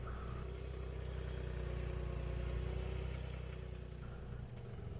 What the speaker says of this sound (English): I'm using a John Deere 3033R tractor built in 2023